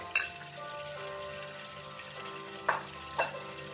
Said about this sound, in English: the oil is hot, so I am adding this spaghettis